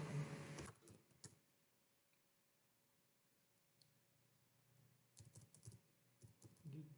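Bursts of key clicks on a computer keyboard as text is entered into a web form, quiet and close, with a long pause mid-way and faster clusters of taps toward the end.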